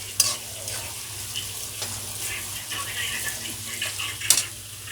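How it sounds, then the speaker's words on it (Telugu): Onions for chicken curry fry toward golden brown in a pan, giving a soft continuous sizzle with occasional stirring scrapes and a couple of sharp clinks. "గోల్డెన్ బ్రౌన్ ఫ్రై చేసుకుందాం."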